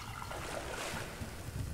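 Water trickles softly and continuously as it is collected in the survival video game Subsistence, a brief, faint, steady dribble with no talking over it.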